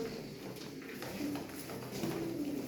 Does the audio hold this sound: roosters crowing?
no